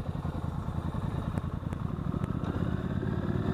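An engine runs close by as a little throttle is given in low gear, a steady, rumbling drone that lifts only slightly in the last second.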